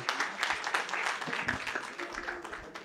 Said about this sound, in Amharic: በቃ ለነዚህ መኮንኖች መጀመሪያ አጨብጭቡላቸው